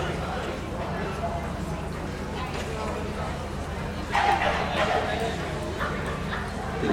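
A young Skye Terrier puppy at a dog show gives a few short yips amid constant hall murmur and crowd chatter, with a brief louder burst partway through.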